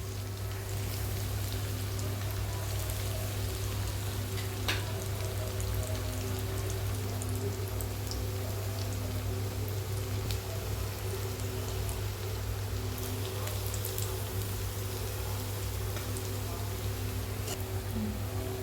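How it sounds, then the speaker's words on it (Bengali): Jackfruit cutlets deep-fry in hot oil, giving a steady, dense hiss like rain that runs evenly for close to twenty seconds with a low hum underneath and no talking. "দেখুন তেলটা গরম হয়ে গেছে। এরপরে আমি ছেড়ে দিলাম চপগুলো।"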